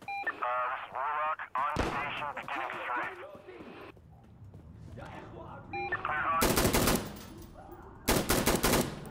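Gunfire in the realistic war video game Insurgency Sandstorm: someone talks at first, then sharp loud bursts of automatic fire come in two clusters near the end, close and dominant.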